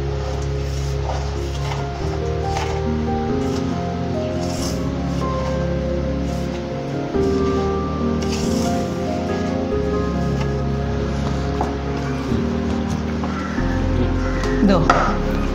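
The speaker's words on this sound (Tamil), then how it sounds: "இதோ இந்த மாதிரி பிசைஞ்சுக்கணும், அவ்வளோதான்." An onion Maddur vada dough mixture is kneaded by hand, giving soft, wet squelching and pressing sounds in an uneven, continuous rhythm, close up, with background hum throughout.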